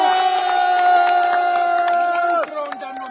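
A protest crowd in Brussels applauds and cheers, with a long, steady horn-like tone sounding over the noise before it breaks off and scattered crowd sounds continue.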